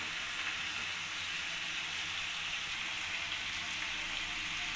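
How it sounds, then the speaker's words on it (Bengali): Lemon juice hits chicken being fried with spices, giving a dense, even sizzle that crackles steadily and close for a few seconds with no voices. "ওপর থেকে আমি পাতিলেবুর রস দিয়ে দেবো।"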